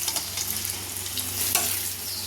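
Paneer cubes frying in hot oil for paneer korma: a continuous crackling sizzle with bright spitting pops, close-up and steady.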